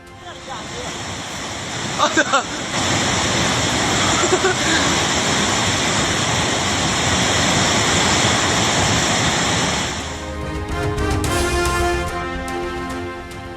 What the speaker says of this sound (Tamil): காட்டாற்று வெள்ளம் ஆக்ரோஷமாக பாய்ந்த நேரத்தில்